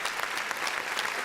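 A studio audience at a televised quiz show bursts into brief, dense applause, loud and steady for just over a second.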